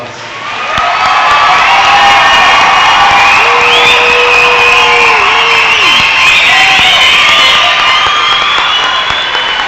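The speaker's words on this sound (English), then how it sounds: "all of us in attendance should give them one more big round of applause" A loud, packed crowd at a 2016 Greeley-Evans Alternative Program summer graduation cheers and applauds, with whoops and shouts riding over continuous clapping that swells and holds, with no break, throughout.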